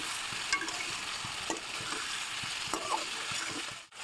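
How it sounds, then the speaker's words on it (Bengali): Paneer and potatoes are stirred and sautéed in a hot pan as masala paneer cooks. A steady sizzle runs throughout, broken by scattered scrapes and clicks of the spoon, with no talking. "পনির দিয়ে নেড়ে চেড়ে ভালো করে কষিয়ে নিতে হবে।"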